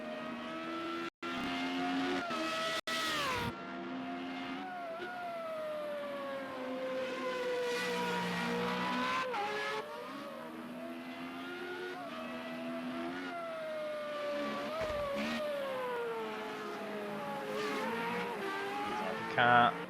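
Formula Renault race cars at Imola in Project CARS scream past with high, rising and falling engine notes and gear shifts, loud and sustained, while a commentator talks over the racing.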